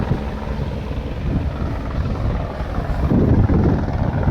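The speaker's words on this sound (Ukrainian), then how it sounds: "Але літає вертоліт" A helicopter flies overhead near the coastal cove of Cala Varques, its steady low rotor rumble loud and continuous, mixed with wind buffeting the microphone and swelling slightly toward the end; no one speaks.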